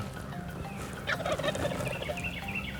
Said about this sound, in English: listen to those turkeys across the river.